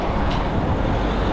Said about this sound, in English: the audible sounds of the street